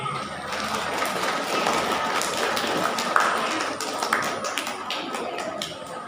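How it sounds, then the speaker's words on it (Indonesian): An audience at a Maulid Nabi mosque gathering on Pulau Batik dan Tenun claps, steady dense applause from many hands that lasts throughout, moderately loud, with some talk mixed in. "Tepuk tangan semuanya untuk Pak Henry."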